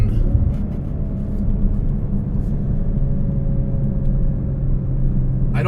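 A manual-transmission car's engine hums in a steady low rumble from inside the cabin as the driver downshifts toward second gear, with no distinct rev change standing out.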